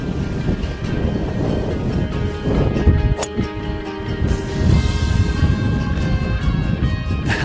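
Steady wind roaring across the microphone, a constant low rumble with gusts that swell and ease, no voices.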